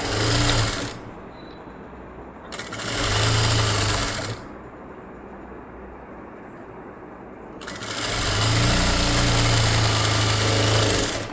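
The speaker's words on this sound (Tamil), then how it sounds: "இப்போ நான் மேலே வச்சு ஒரு தையல் போட்டுடுறேன்" A sewing machine stitches a blouse patti in three bursts of rapid mechanical whirring, with short pauses of quiet between runs, close and fairly loud.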